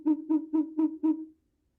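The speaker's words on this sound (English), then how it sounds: "This is the male advertisement hoot." A male short-eared owl gives its advertisement hoot, demonstrated in a talk on owl research in Maryland: five low, even hoots in a steady rhythm, close and clear, followed by silence.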